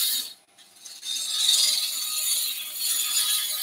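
A wood lathe turning the front face of a sycamore bowl, with a steady, loud hissing scrape of the cutting tool. It breaks off briefly near the start and then runs on continuously, close up and with no talk.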